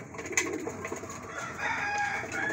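Racing pigeons coo softly in a loft, low throaty calls overlapping against faint background chirps and rustling.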